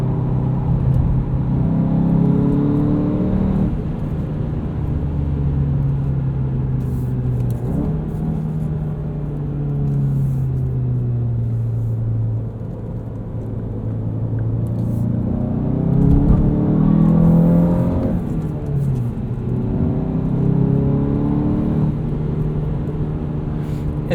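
A 2017 Volkswagen GTI Sport with a six-speed manual, driven on a track, its engine a steady droning hum that rises and falls with throttle, heard from inside the cabin with no talk.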